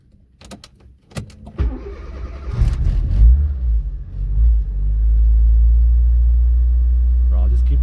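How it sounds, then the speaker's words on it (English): A turbocharged Fiat Cinquecento on a cold day catches and builds into a loud, steady low engine roar, held up with the accelerator after an uneven start with a few clunks. The engine is close by and runs slightly rich. "I'll just keep my foot on the accelerator for a little bit"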